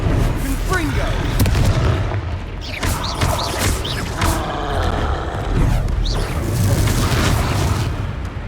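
Confringo blasting spells in Hogwarts Legacy burst repeatedly, with loud booming blasts and crackling impacts running through a busy battle, mixed with voices.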